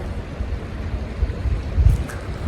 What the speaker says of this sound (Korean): 여기가 물소리가 지금 들리죠.